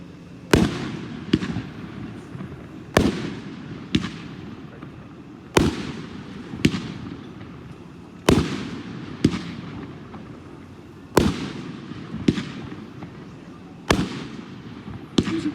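A 'shotgun' firework cake from a firearm series, 419 shot, set off at a public show in Andover, Kansas, fires a dozen loud, sharp reports spaced about a second or two apart, each with a short rumbling tail, no talk over it.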